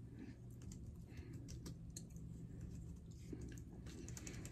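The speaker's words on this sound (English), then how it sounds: "I'm typing down what I like because his shop is about to close." Soft, quick tapping of typing on a keyboard or phone runs steadily through the clip. It is quiet and close, over a low background hum.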